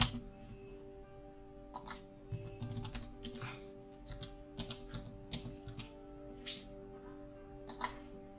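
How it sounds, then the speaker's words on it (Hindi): Quiet keystrokes on a computer keyboard as a search is typed into Google, a steady run of soft clicks and taps with brief pauses, close and alone without voices. "सबसे पहले आपको गूगल पे जाना है और यहाँ पे टाइप करना है"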